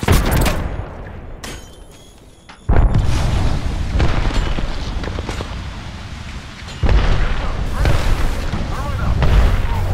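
Frag grenade blasts in the Apex Legends video game, with sharp booming hits near 0.5 s, 2.7 s and 6.8 s among continuous gunfire-like clatter, while a voice talks over the action.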